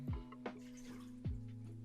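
Water is poured into a pot for protein blueberry banana nut muffin batter. It makes brief splashes and dripping plinks over about two seconds, close by and fairly quiet.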